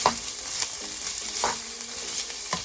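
Vegetables for a vegetable jalfrezi sizzle in a pan, a soft steady frying hiss broken by a few stirring scrapes, close by and fairly quiet with no talking.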